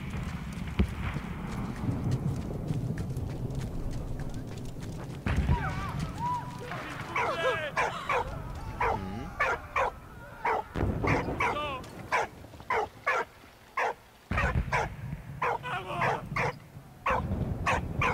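A dog barks repeatedly in the World War I video game Valiant Hearts: The Great War, its sharp yaps rising over a busy game soundtrack with clattering effects and hoof-like thuds.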